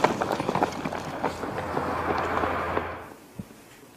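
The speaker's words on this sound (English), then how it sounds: "to do some running to see if we could hear them running" Kids run outside on a cold night, a quick patter of footsteps loud at first that fades into a steady rumble and then drops to near quiet, with one last soft thump.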